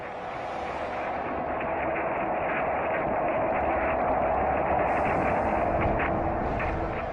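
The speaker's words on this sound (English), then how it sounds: "Picked up by the orbiting SOHO satellite, this is the sound of the sun." A continuous roaring rumble presented as the sound of the sun, captured by the orbiting SOHO satellite: dense, noisy and steady throughout, with a gently pulsing texture and no distinct events.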